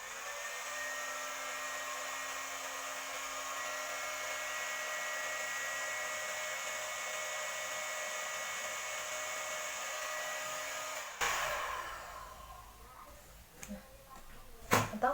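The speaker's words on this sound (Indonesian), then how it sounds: "kita hot gun begini guys" A handheld heat gun blows a steady, loud stream of hot air to seal the cap on a bottle of pure honey, holding constant for about eleven seconds before cutting off, followed by faint handling knocks.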